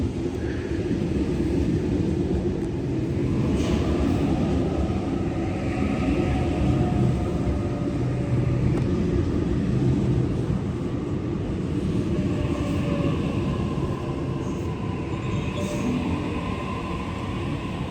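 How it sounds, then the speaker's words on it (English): A Sydney Trains service pulls into platform 1 with a steady, loud rumble and rolling wheel noise that holds throughout, along with faint squeals and higher tones from the cars as they arrive. "This train arriving on platform 1 now is the one that I'll get back to Central"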